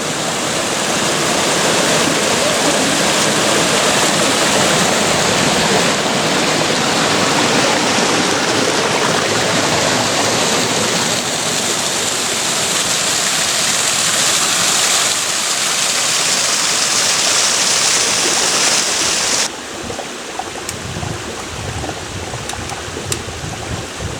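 Small streams flowing beside a descending hiking trail on the GR 7 in Hérault, a close, continuous rushing of water that fills most of the stretch, then drops to a softer trickle near the end.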